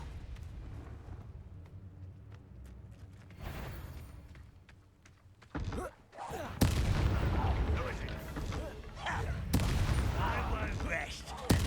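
Fire spells blast in Hogwarts Legacy combat, with several loud, booming explosive bursts over a rumbling battle din and occasional voices.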